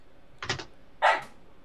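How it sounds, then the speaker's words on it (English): A dog gives two short barks close by, the second louder, over faint background hiss, with no talking. "Let me apologize for my dog."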